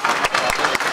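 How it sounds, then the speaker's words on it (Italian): An indoor crowd claps at the end of a Serie B basketball game between Forlì and Reggio Emilia, with dense, loud applause and a few sharper bursts of clapping. "tra gli applausi del pubblico"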